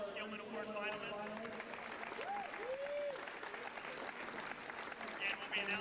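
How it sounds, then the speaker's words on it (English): An audience applauds three Skillman Award finalists at an awards presentation, steady continuous clapping at moderate level, with some voice-like tones and a rising whistle-like sound over it. "Let's have one last round of applause for our 3 Skillman Award finalists."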